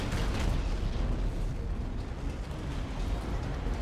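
A missile fires and explodes in the space game Between the Stars: a loud, sustained roaring blast with heavy low rumble that fills the whole moment without pause.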